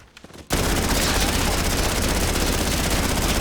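After a brief quiet start, a PPSh submachine gun in Warzone opens up in a sustained, very loud rapid-fire stream that continues without pause to the end.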